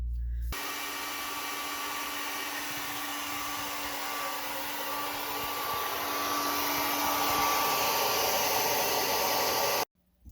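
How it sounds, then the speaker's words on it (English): Steady whooshing hair dryer on a low setting blowing continuously at a moderate, even level while defrosting a Samsung fridge, getting slightly louder partway through, then cutting off. "make sure that the hairdryer is on a low setting"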